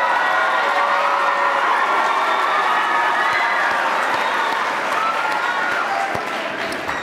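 Sustained audience applause at a middle school fine arts festival after an orchestra performance, a dense, even wash of clapping from a large crowd, loud and continuous throughout.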